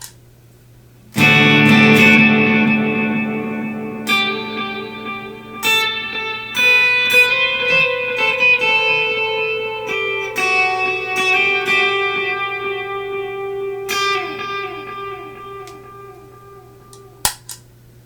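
Electric guitar played through a Teisco Interface multi-effect pedal, with dry tone and reverb off: sharp plucked notes and chords ring out and decay one after another over a steady low hum.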